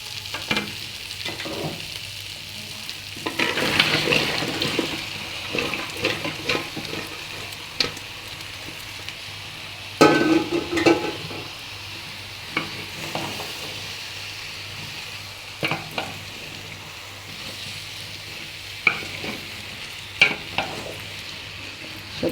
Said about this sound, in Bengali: এখন সবজিগুলো দিয়ে দেব